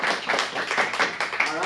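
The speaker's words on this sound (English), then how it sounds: "Give a round of applause for our new" New members of an adult improv class at an acting studio in Phoenix get a short burst of clapping from a small group, scattered and uneven, with voices mixed in.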